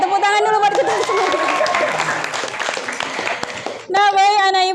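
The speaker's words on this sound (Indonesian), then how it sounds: "Oke, tepuk tangan dulu buat kita semua." Schoolchildren clapping in an Indonesian classroom, a busy patter of small hands mixed with children's voices, then a teacher's voice takes over near the end as the clapping dies down.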